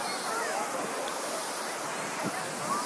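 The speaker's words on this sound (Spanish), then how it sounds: "para estar sentado aquí viendo las olas" Ocean waves wash steadily onto a New York City beach, a constant broad hiss of surf with wind noise and no distinct breaking crashes.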